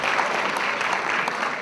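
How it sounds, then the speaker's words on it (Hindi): Audience applause at a Hindi stand-up comedy show: dense, steady crowd clapping fills the whole short stretch at even loudness, with no voice over it. "मेरे लिए ताली बजाइए।"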